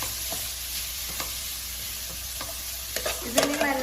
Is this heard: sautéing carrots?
yes